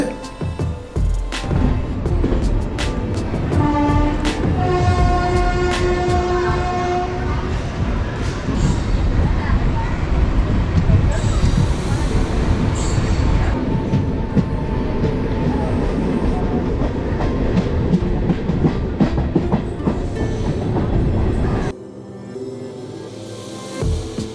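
A goods train rolls past a moving passenger train on the Puducherry to Chennai Egmore line, giving a loud, steady rumble and rhythmic wheel clatter close by for over twenty seconds before the noise cuts off sharply.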